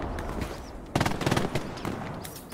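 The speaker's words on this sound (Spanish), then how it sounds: "me están disparando" Gunfire in the online shooter Hell Let Loose: a sudden cluster of rapid automatic bursts rattles out over quiet ambience, then fades back to scattered, fainter shots.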